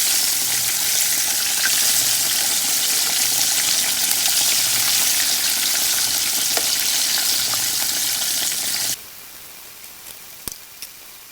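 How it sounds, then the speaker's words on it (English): Battered catfish frying in hot oil, a loud continuous crackling sizzle held close by for about nine seconds, then cutting off to a quiet room with a few faint clicks. "when we put it in the oil, it actually goes pretty quickly, and it gets this nice golden brown color"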